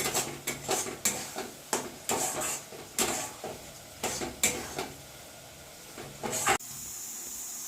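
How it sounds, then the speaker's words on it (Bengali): Patol (pointed gourd) frying with sugar in a pan, with a series of sharp spatula scrapes and stirring clatters over a faint hiss, ending in a steady soft sizzle, close and without talk. "এখন আমি দেবো এর মধ্যে চিনি। এটাকে ভাজছি এখানে"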